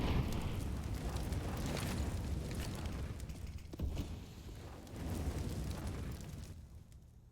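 A grenade blast in Counter-Strike during a competitive match: a heavy, rumbling explosion that swells and rolls on in broad low booms before fading into quieter background noise.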